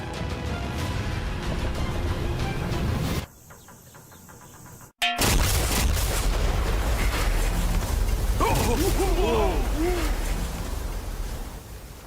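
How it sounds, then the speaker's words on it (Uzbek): A yacht blowing up in a video game: a loud, dense roar, then a sudden drop, a sharp burst and a long rumbling wash of debris noise, with a voice briefly exclaiming over it. "U tekkanda juda ham katta portlash bo'ladi"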